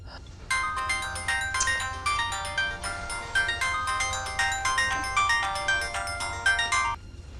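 A telephone rings with a melodic electronic ringtone, a repeating chiming pattern lasting about six seconds, moderately loud and clear over quiet background.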